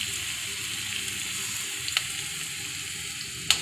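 Garlic and ginger paste fries in a pan with a steady, close sizzle. Two brief utensil clinks stand out near the middle and the end, with no talking.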